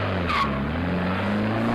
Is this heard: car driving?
yes